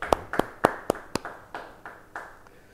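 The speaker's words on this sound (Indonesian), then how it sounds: "yang senang beri tepuk tangan bagi dia" A few hands in a church congregation clap during a Bible study sermon, about nine distinct claps in an uneven rhythm, the first few sharp and close, then softer and more scattered as they die away.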